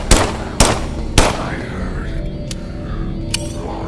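Three sharp, loud gunshots spaced about half a second apart, fired at cyborgs in the video game System Shock, followed by fainter distant shots over a steady game background hum.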